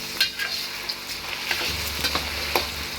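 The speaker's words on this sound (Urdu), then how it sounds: "آلو کو ہلکا ہلکا فرائی کر لیا" Potato pieces fry lightly in hot oil with a steady close sizzle, broken by a few sharp crackles and the scrape of stirring, with no talk.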